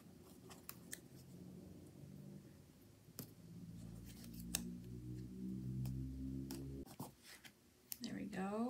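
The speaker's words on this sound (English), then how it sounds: "I'm gonna have to cut some of these down." Scissors snip planner checklist stickers for an Erin Condren petite planner in a series of short, crisp cuts, with someone speaking over most of them.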